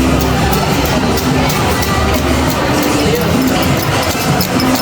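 Dense crowd at a Sunday street market in the jungle city of Iquitos, Peru, a steady loud babble of many voices with bustle and clatter throughout, no single speaker standing out.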